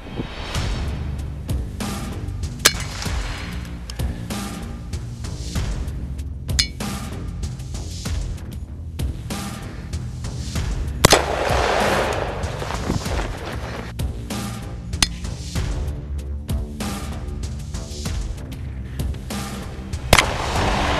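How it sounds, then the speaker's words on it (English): Gunshots fired at an AR500 steel armor plate outdoors, with several loud sharp reports spaced seconds apart over a rumbling, noisy background, some followed by a metallic ring. "We're gonna try shooting it."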